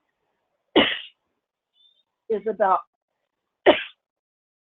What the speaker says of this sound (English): I keep coughing in your ears.